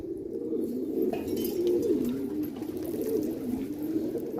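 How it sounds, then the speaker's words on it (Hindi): Multani pigeons cooing in a steady, continuous low rolling drone, close and fairly loud, with rising and falling warbles and wind noise in the background. "इसमें एक दो खेलने कबूतर भी हैं।"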